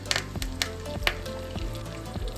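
Mustard seeds, asafoetida and curry leaves sizzle in hot oil for a handvo tempering, a close, steady frying hiss broken by sharp crackles and pops from the spluttering seeds.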